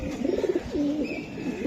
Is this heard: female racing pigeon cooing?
yes